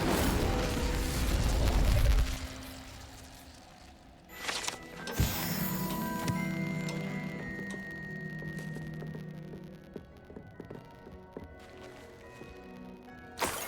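An Incendio fire spell is cast in the video game Hogwarts Legacy with a loud fiery burst at the start, followed by further bangs and shimmering game effects that fade off.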